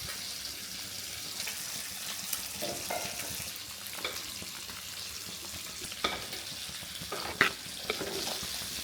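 Ground spice paste goes into a curry of taro and mango frying in a pan, with a steady sizzle and intermittent scraping stirs, and a few sharper clacks of the spoon against the vessel.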